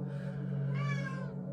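A cat gives one drawn-out meow over a steady low hum, close and moderately quiet.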